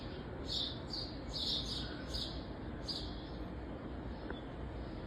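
A bird chirps in short, bright bursts, a handful of quick calls in the first three seconds, then sparser ones over a constant low rumble.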